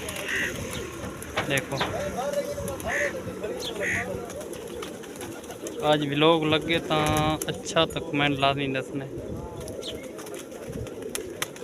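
Pigeons coo in a low, repeated rhythm at close range throughout, mixed with brief chirps and soft rustling, while people talk over much of it.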